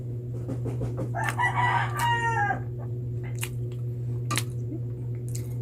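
A rooster crowing nearby, one long drawn-out crow over a steady low hum, followed by a few short clucks and clicks.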